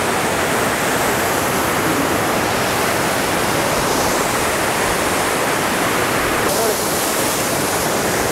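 A river rushes loudly near Urumi waterfall in Calicut, a steady close roar of churning water that fills the whole stretch without pause.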